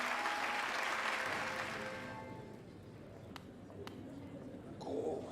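A video game crowd applauds a wrestling or fighting performance, a loud, dense clatter of clapping that gradually thins out and fades over several seconds before a brief swell near the end.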